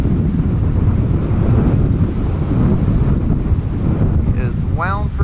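Strong wind from a wind storm roars and buffets the microphone in a loud, continuous rumble, with a brief voice breaking through near the end.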